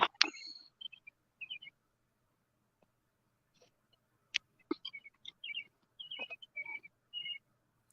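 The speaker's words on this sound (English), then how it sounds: "I can hear the birds chirping." Sparse, faint bird chirps and short whistled calls come in scattered bursts against near silence.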